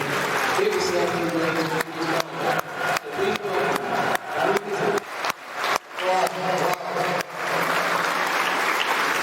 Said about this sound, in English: This is the Barry and Margaret getting their customary good round of applause.